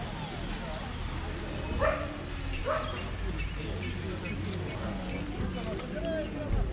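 A dog barks twice in quick succession at a busy outdoor dog market in Odesa, with a steady murmur of crowd and background noise throughout.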